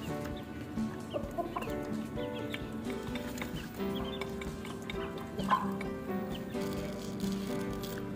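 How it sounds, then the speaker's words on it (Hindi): A hen and a rooster eating grain: chickens clucking and murmuring close by, with scattered bird calls and farmyard background sound throughout. "हमारी बड़ी मुर्गी और बड़ा मुर्गा ना वहाँ पे दाना खा रहे हैं"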